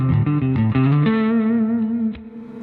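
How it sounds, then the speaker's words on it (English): A distorted electric guitar played through a Big Sky Drive overdrive pedal plays a few quick chords, then rings out on a sustained, slightly gritty note that fades near the end. "As you can see, it's kind of a clean distortion."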